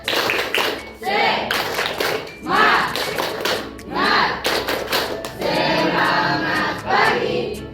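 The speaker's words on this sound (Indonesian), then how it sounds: "Tepuk semangat." Schoolchildren in a classroom perform the tepuk semangat spirit clap, a patterned rhythmic clapping with bursts of hand claps and thuds, loud and close, mixed with young voices chanting and talking throughout.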